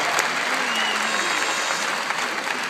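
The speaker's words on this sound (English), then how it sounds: "That is closer to the rousing applause that product deserves." An audience at a product presentation for a suspension gel gives dense, sustained applause that stays steady throughout, with faint voices underneath.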